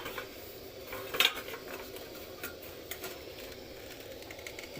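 A lid goes onto a cooking pot of salted water with rai greens for boiled fish, making one sharp metallic clank early on, then only a faint low hiss of simmering.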